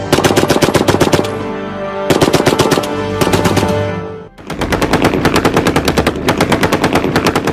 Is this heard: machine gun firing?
yes